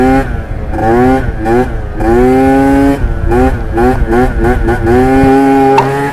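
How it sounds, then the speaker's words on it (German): A Yamaha Aerox 70cc scooter revs hard during a wheelie, its engine whining up in a series of rising bursts with brief dips between them, loud and close throughout. "das war jetzt ein schneller Wheelie"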